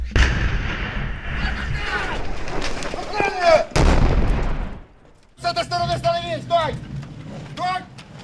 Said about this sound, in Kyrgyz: орус армиясынын дыкат коштоосу менен жүргөнүбүздө бомба жарылды